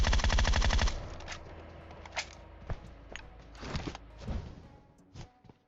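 Rapid automatic rifle fire in PUBG Mobile opens with a dense burst, then scattered single and paired shots follow, with sharp game-style reports.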